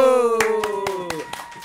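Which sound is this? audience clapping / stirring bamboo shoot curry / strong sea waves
audience clapping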